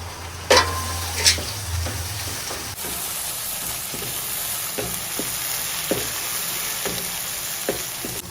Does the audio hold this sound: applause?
no